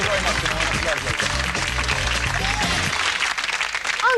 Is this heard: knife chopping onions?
no